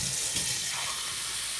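Tap water runs in a steady, full hiss from a faucet as it fills a pot for making chai, heard alone and close throughout.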